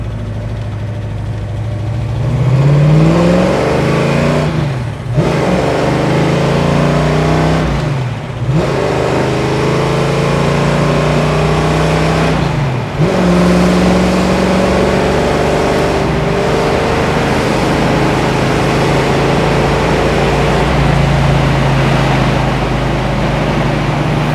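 A 1969 Chevrolet Chevelle convertible's engine revs hard and loud as it accelerates, rising in pitch through several gear shifts with brief dips between, then holding a high roaring drone.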